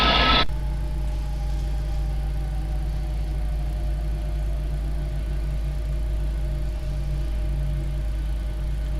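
Boeing 737-900 jet engines run steadily after start in a flight simulator, a loud constant low drone and hum with a faint whine, following a brief burst at the very start; no one talks.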